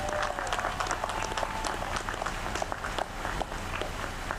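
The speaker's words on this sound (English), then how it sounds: "Is a round of applause for our platform party" An audience at a college graduation ceremony applauds the platform party with brisk, dense clapping that carries steadily through the few seconds. Crowd noise sits faintly underneath.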